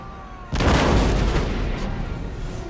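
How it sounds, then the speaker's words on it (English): Artillery fire in the Empire: Total War strategy game, a sudden loud blast at about half a second that swells into a sustained rumbling barrage of booms lasting to the end. "Target my artillery because I've not done that over here."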